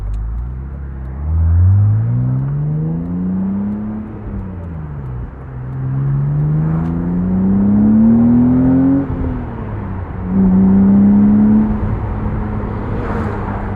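A 1999 BMW Z3 M Roadster's S52 engine revs hard, its pitch climbing through several gear changes with brief dips between, loud and close, no talking.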